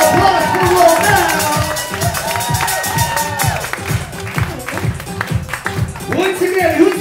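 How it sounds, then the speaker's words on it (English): Audience applause at a live event with drinks up for grabs, a crowd clapping and cheering with rhythmic clapping running throughout while a host talks over it. "Big round of applause for Roll Now."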